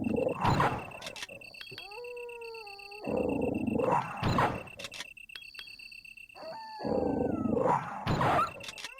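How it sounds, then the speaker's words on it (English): A dog howling in Resident Evil on the Sega Saturn, with growling snarls and barking bursts that repeat in three loud waves. Drawn-out howls and tonal game sounds fill the gaps between them. "Where are you, doggo?"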